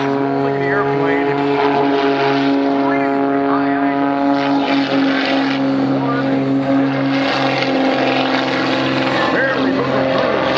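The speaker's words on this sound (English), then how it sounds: "375 horsepower engine. Mostly providing the propulsion and control for that airplane." A propeller airshow plane with a 375-horsepower engine rolls at high angle of attack. Its loud, droning engine holds steady tones that rise and fall slightly, and an announcer talks over it the whole time.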